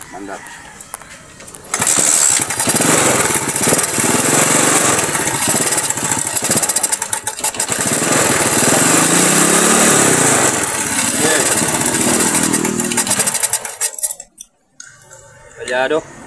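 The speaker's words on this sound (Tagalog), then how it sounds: "Palyado ang ating carburetor." An engine with a misfiring, poorly tuned carburetor starts and runs loudly and roughly for about twelve seconds, then cuts off abruptly into near silence, with a person talking over it.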